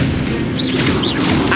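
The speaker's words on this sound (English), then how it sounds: "Expelliarmus! Expelliarmus!" An Expelliarmus spell cast in the video game Hogwarts Legacy, a loud sustained magical whoosh and booming blast, with a voice calling out over it.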